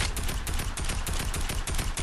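Rapid gunfire in a shooting video game, a dense stream of repeated shots crackling continuously at a moderate level with no pauses.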